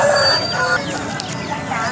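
Roosters and chickens at a rooster and goat market in Kavundapadi, Tamil Nadu, clucking and crowing in a steady, busy chorus, with the crows drawn out over a background of market noise.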